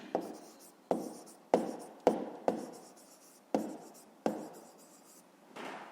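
A pen scratches out a fifth-grade math answer in a series of sharp, repeated strokes, close and alone without any talk.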